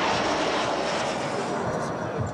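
A jet aircraft waves off its landing on the French aircraft carrier Charles de Gaulle at sea and goes around. A loud, continuous engine roar fills the whole moment.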